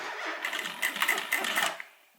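A sewing machine runs a short back stitch on a homemade airliner cabin bag, a quick burst of fast mechanical clatter that rises and then stops.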